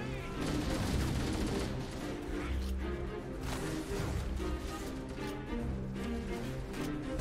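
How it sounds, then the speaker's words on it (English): Rapid bursts of gunfire from the Halo: Combat Evolved video game rattle almost without pause, dense and loud throughout, with some brief faint talk mixed in. "Oh, I'm shooting him."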